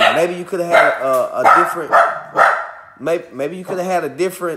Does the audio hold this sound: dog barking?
yes